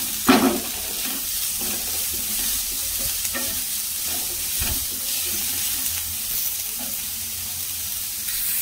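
Chopped onion and capsicum frying in a pan for veg Manchurian, with a steady, even sizzle and an occasional clink of a utensil stirring, no talk over it.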